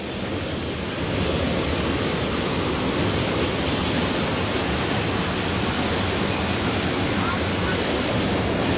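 A river in Ambuklao, swollen and overflowing after days of heavy rain, rushes in a loud, steady broadband roar that fills the whole stretch without pause.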